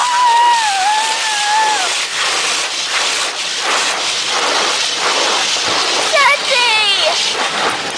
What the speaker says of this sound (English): you're gonna see us go through a car wash